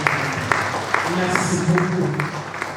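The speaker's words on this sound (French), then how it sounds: "Est-ce que la salle peut applaudir pour ce travail?" Applause from a church audience in a hall, a steady wash of clapping under a voice speaking over it.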